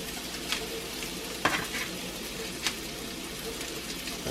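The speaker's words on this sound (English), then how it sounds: "I'm basically just going to be browning them on the stove" Meatballs browning in a cast iron pan on the stove, an even, steady sizzle like light rain, with a few brief scrapes and taps of a utensil against the iron.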